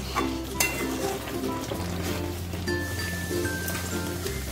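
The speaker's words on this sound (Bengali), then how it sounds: "নুনটা দিয়ে আমি ভালো করে এবারে মিশিয়ে নেব।" Spinach and coriander chicken sizzles in a frying pan while salt is stirred in, giving a steady close frying hiss with scraping spoon strokes and occasional clinks, broken by a low hum, with no talking.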